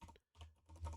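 Quick, quiet keystrokes on a computer keyboard, a short burst of a few taps with a brief pause, faint and close with no talking.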